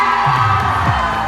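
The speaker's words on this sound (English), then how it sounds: "give me a big cheer" A school audience at a Bible quiz contest cheers for the 8th-grade contestants, a brief loud burst of crowd shouting and whooping from many young voices, sustained for just over a second.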